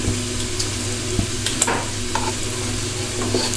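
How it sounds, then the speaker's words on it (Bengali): Duck meat sautéed with spices and ground chili in a pan gives a steady close sizzle, broken by occasional scrapes and knocks of stirring, with no talking. "তারপরে মাংসটা কষাবো।"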